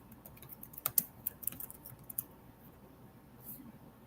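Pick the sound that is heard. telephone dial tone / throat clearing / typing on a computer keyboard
typing on a computer keyboard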